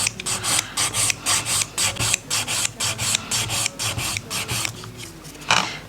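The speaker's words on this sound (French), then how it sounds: "je vais venir limer la démarcation avec mon grain doux" Rapid, evenly paced rasping strokes, about twenty in six seconds, come from a soft-grit nail file working the edge of an acrylic nail capsule, close and clear with no voice.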